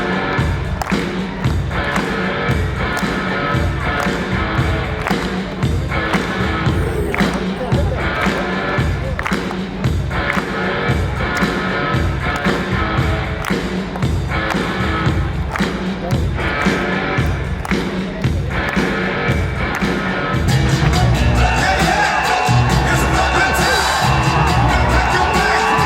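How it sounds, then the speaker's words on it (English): A crowd claps and cheers at an event in Texas, a dense steady rhythm of hand claps with shouts and whoops mixed in, swelling into louder cheering near the end. "Come on, get those hands clapping."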